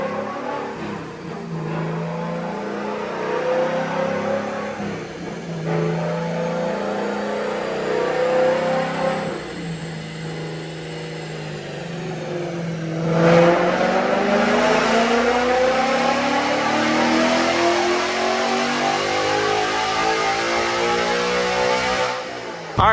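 2024 Ford Mustang Dark Horse V8 with Steeda intakes on a dyno, revving hard through a long pull, pitch rising steadily with a loud surge about halfway, roaring close and alone.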